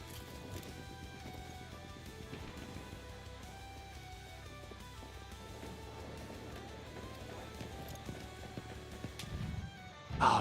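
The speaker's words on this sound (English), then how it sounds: "I do hear the horse behind me" A horse gallops close behind the player in the Battlefield 1 battlefield, steady hoofbeats running for about ten seconds beneath a dense wash of game sound and music.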